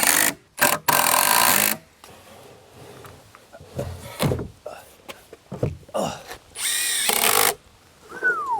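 A power drill drives deck screws in short bursts with whirring spin-ups, interspersed with handling clatter and thumps during deck construction.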